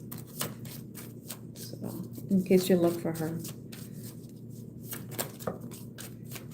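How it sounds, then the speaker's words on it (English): Tarot cards being shuffled by hand, a short riffling flutter of cards in the middle of the clip, close and fairly quiet, with someone talking before and after. "I'm going to shuffle like her"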